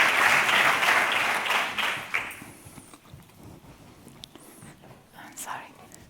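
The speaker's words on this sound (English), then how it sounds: "So please give a big applause to Teresa Rossignoli" Audience applause at a pediatric innovation event, loud dense clapping for about two seconds that quickly dies away into scattered claps and a quiet room with faint shuffling.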